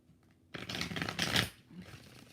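One quick, close shuffle of a tarot deck gives a crisp papery flutter of about a second that stops abruptly, followed by quiet room tone.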